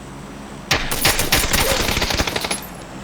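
Loud automatic gunfire in the video game PUBG: a rapid burst of rattling shots begins abruptly and continues densely for over two seconds, close and sharp.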